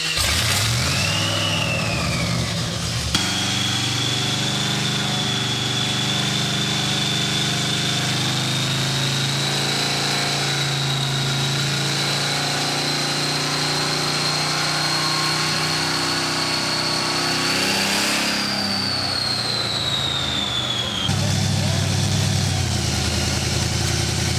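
A supercharged LSX engine in a C10 truck revs on a dyno, its loud, sustained roar and climbing supercharger whine holding steady for about twenty seconds before dropping back, then surging again near the end.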